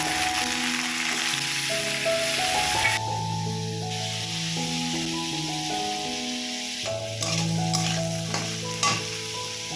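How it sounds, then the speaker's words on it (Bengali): Sliced pumpkin frying in a pan in a home kitchen gives a loud, close, continuous sizzle and hiss, with occasional stirring scrapes and no voices. "এসে বসিয়ে দিলাম মিষ্টি কুমড়া ভাজা"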